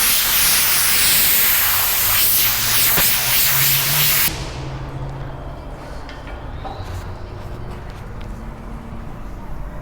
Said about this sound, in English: If you have compressed air, that's always best